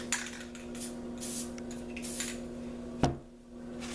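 A spray paint can hisses in several short, faint bursts while making spray paint art, with a sharper clack partway through.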